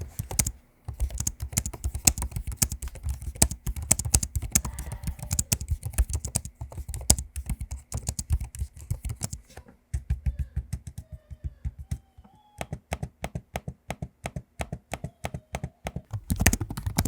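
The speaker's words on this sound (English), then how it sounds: "Here's a quick audio sample for you of me using both keyboards and trackpads" Rapid keystrokes and trackpad clicks on Lenovo Legion Slim 7 and Legion 5i Pro laptops, close and crisp, coming in dense bursts with brief pauses and no talking.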